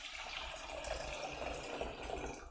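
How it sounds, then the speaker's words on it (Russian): Water pours into a pot to fill it with 1.2 litres for miso soup, a soft continuous gushing splash heard close and fairly quiet without talk. "Наливаем литр и 200."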